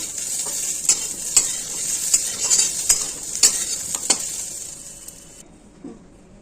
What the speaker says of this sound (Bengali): আমার পটল একদম সুন্দর করে ভাজা হয়ে গেছে